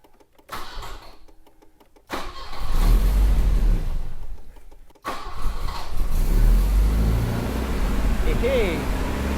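A Volvo 245 engine cranking briefly, stopping, then catching and running on at a steady idle with a low rumble, close by and fairly loud.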